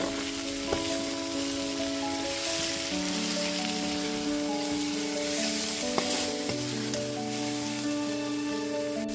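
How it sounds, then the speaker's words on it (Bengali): Small new potatoes with spices sizzle steadily in a pan over a low-to-medium gas flame, being stirred for dum aloo; the crackle stays continuous throughout, with steady tonal music sustained underneath and no talk. "এবার গ্যাসের ফ্লেমটা লো টু মিডিয়ামে রেখে 5 মিনিট ধরে আলুটাকে কষিয়ে নেব।"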